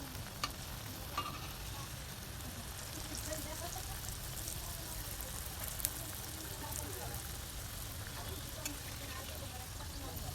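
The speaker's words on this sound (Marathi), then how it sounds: "कानवाट्यात अशा तळून घ्यायच्या आता." Kanavatya dumplings fry in hot oil with a continuous soft, rain-like sizzle and scattered small pops, steady and fairly faint throughout.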